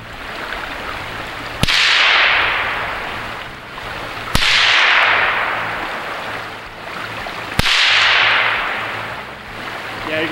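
Kel Tec CMR 30 .22 rifle firing three spaced single shots outdoors, each a sharp crack followed by a long rolling echo off nearby woods, loud and close.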